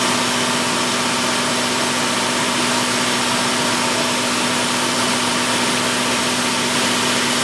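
A pump draws engine oil out of a Toyota Corolla 1.6 through a tube, giving a loud, steady mechanical drone with a constant hum that runs unbroken throughout, close by and with no speech.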